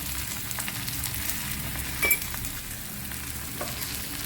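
Okra curry simmers and sizzles in a pan as masala is stirred through it, a steady soft hiss with a few brief scrapes and clinks of the spoon.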